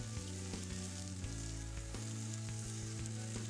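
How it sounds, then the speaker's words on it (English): Two steaks sear on a kettle grill over hot charcoal, giving a steady close sizzle with a low rumble underneath and a few brief pops and ticks. "Place the two steaks on the grill."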